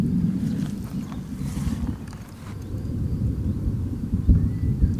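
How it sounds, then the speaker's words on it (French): Thunder from a storm rolls through as a deep, continuous rumble lasting several seconds, heard from indoors at a dry toilet, with no talking over it. "c'est pas Eva, le bruit, hein, là, c'est l'orage"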